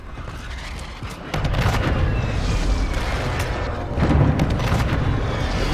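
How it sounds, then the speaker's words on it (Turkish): A loud explosion booms close by in Warzone 2.0, followed by rumbling and a second heavy blast amid continuous noisy game action. "Önümüzde bir patlama oldu önümde."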